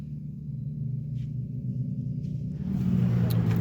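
Formula cars circulate on the Nürburgring track, a steady low engine rumble that swells louder toward the end as a car draws nearer, heard from trackside at a distance.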